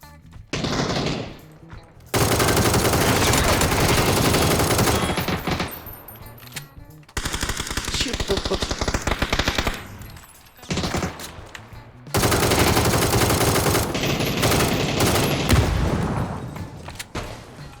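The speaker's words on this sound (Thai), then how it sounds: "เสียงปืนจากสามร้อย" Long, loud bursts of rapid machine gun fire in PUBG, in sustained volleys with brief pauses between them.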